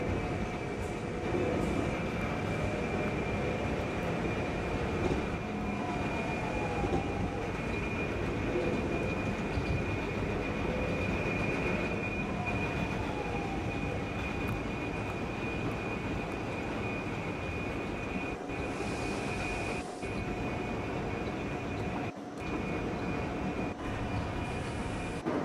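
An E line commuter train runs steadily for the whole stretch, a loud, continuous rolling rumble with a constant high whine and occasional brief clanks, with no voices.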